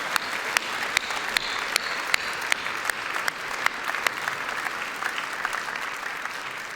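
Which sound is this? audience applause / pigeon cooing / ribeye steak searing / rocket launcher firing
audience applause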